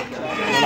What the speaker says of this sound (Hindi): लड़ाई वाले मुर्गे ये